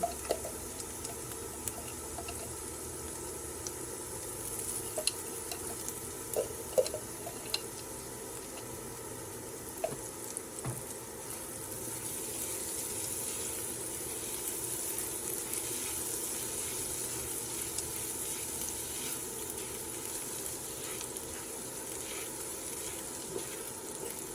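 Garlic sizzles quietly in a pan with a soft, continuous crackle, occasional faint clinks and pops over low background noise.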